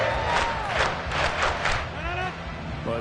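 Stadium crowd in the Madden football video game roars steadily throughout, a dense wash of cheering and yelling with rising whistles and shouts layered on top, loud and continuous with no pause.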